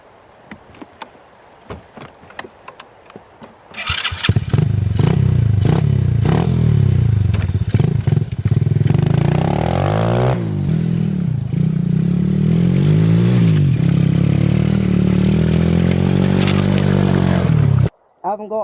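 A quad ATV fitted with a snow conversion kit cranks over, fires up and revs loudly nearby. The engine climbs and falls through several rises in pitch before it cuts off abruptly, with some clatter along the way.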